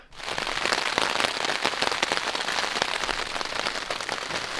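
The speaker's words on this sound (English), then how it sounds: "The rain showed up just like I thought." Steady, dense rain drums on a tent during a bike tour of the Colorado Trail, a continuous close patter of drops with no voices.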